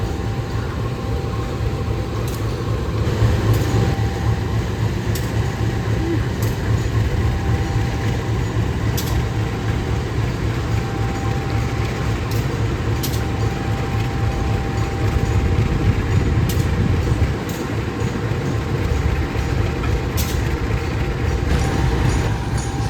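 A passenger train locomotive turns slowly on a railway turntable, making a continuous low mechanical rumble and grinding with scattered metallic clanks and ticks, steady and fairly loud for the whole stretch.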